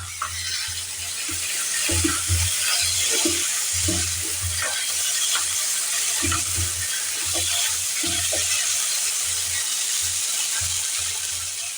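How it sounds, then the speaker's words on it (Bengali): New potatoes fry in oil over raised heat with a soft, steady sizzle, punctuated by repeated scraping and stirring knocks of a utensil in the pan. "এটা সুন্দর করে ভাজা ভাজা হতে দেব"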